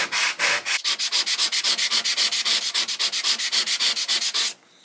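Wood paneling is hand-sanded with quick back-and-forth strokes, a rapid, even rhythm of around thirty loud, close rasps that stop abruptly near the end, with no voices.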